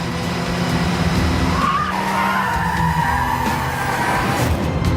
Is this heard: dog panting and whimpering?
no